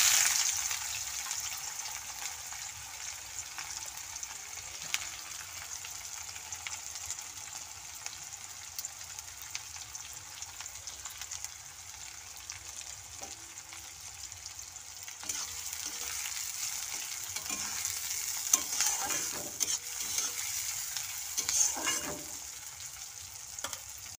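Chopped onion and green chili fry in oil with cinnamon and cloves for a chickpea ghugni, producing a soft, steady sizzle with faint stirring scrapes throughout.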